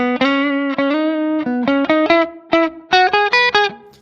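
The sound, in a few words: guitar with room reverb from Blackstar St James plugin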